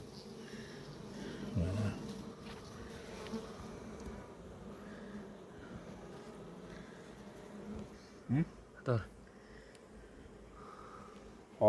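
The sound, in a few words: honeybees buzzing at the hive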